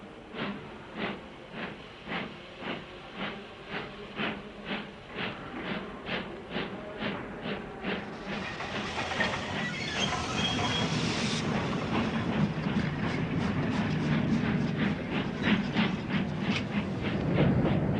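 The Flying Scotsman steam locomotive chuffs at Victoria Station in an evenly spaced rhythm of exhaust beats, then a loud burst of hissing steam rises over the continuing chuffs and rumbling.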